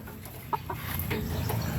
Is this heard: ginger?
no